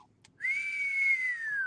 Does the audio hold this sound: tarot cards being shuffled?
no